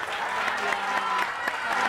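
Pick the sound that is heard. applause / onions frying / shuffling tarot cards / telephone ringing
applause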